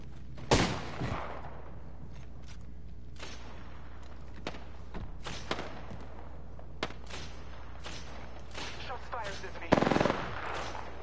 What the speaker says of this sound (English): The enemy is shooting at me.